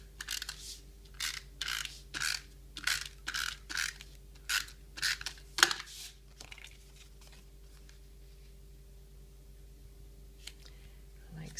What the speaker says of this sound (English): I'm going to adhere the gumball green layer onto the card base using some snail adhesive